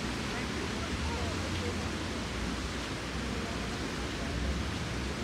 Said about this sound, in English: And more running water.